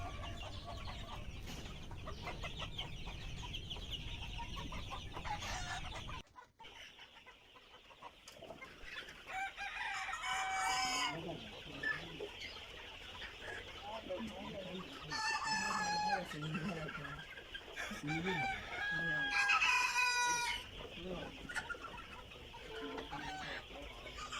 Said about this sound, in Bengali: আবার আমরা নিয়ে আসলাম মিশরীয় ফার্মি মুরগি